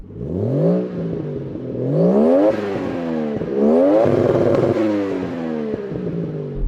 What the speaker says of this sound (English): How about the Toyota Chaser? Let's hear you rev it.